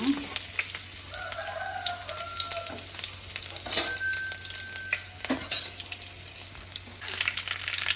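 Garlic sizzles in hot oil in a pan, a steady broadband crackle with occasional stirring scrapes and a couple of brief higher tones in the background.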